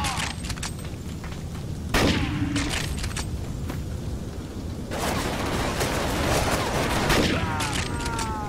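Gunfire in the shooter game NecroVisioN, repeated loud blasts and bursts of shots with booming echoes, coming in clusters and overlapping, with heavy rumble between volleys.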